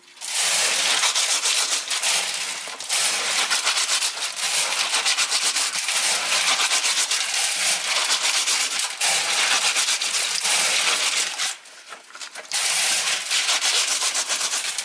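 Freshwater snails in their shells rubbed together by hand to clean them, a loud continuous gritty scraping and rattling that goes on almost without pause, with a brief dip near the end, no talk over it.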